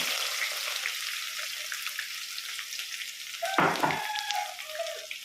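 Mustard seeds, ginger and garlic fry in hot oil for a green pea kurma, giving a continuous close sizzle and crackle. Midway a sharp burst of louder spattering and stirring flares up before settling back into the sizzle.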